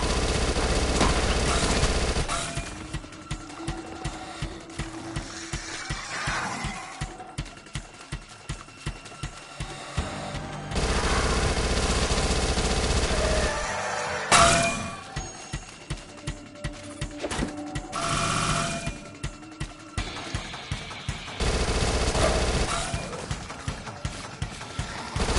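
An SMG fires in Call of Duty zombies mode: repeated rapid bursts of automatic fire, loud and close, alternating with brief pauses and ambient game noise throughout.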